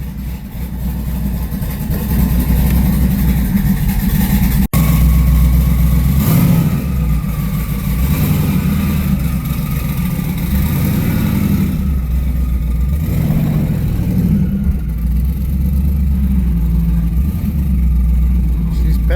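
A car with a TH350 transmission idles and revs loudly up close, a heavy rumbling engine swelling and easing as it is put in gear, with one sharp click early on.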